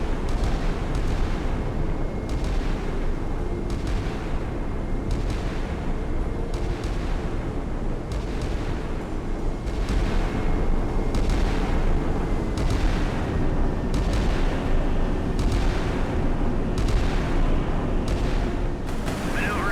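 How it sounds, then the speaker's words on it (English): Naval guns fire in a Sea Power warship battle between Indian and Pakistani ships, a steady run of heavy booming shots about every second and a half over a dense rumbling battle din, loud and continuous throughout. "She opens fire, a hostile act."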